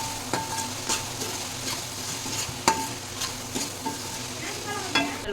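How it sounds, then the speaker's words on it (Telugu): Tomatoes stirred in a hot pan for Telugu-style fish curry with onion, curry leaves and ginger, a constant sizzle punctuated by regular spoon scrapes and knocks against the pan, close up and without speech. "టమాటాలు బాగా కలిపేయాలి"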